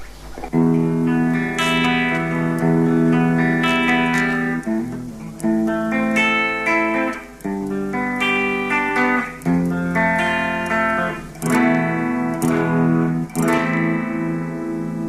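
Electric guitar played on the bridge pickup through effects, with distorted, reverberant chords ringing loud and steady, alone without talk.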